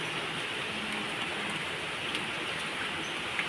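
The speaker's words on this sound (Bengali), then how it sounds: "ছানার মা দাঁড়িয়ে বৃষ্টি দেখছে" Steady rain falling outdoors, a dense even hiss with faint scattered drop ticks throughout, quiet and continuous with no talking.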